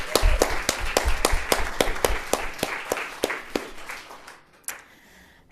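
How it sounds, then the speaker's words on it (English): Crowd clapping for a speaker at a citizenship encampment event, a loud run of crisp, evenly spaced claps in a steady rhythm that gradually thins and fades toward the end. "Can we have another round of applause for Angelina"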